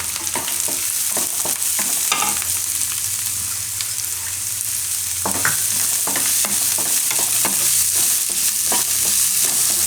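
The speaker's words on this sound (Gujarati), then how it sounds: "થોડીક વાર ડુંગળીને પાકવા દેવું આમાં એકાદી મિનિટ માટે, વચ્ચે વચ્ચે હલાવતા રહેવું." Chopped onions for thukpa sizzle steadily in a hot pan while a spoon stirs them, with repeated close scraping strokes over the constant frying hiss and no talking.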